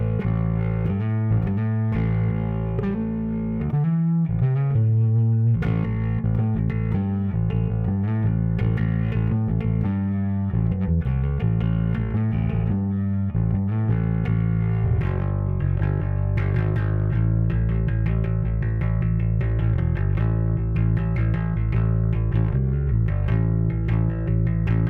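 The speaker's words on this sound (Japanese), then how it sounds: "70年代って結構ね歪みもちょっと歪ましてみるんですよ" A distorted 1970s Fender Precision Bass plays a gritty, sustained riff with loud, continuous driven tone and no talking over it.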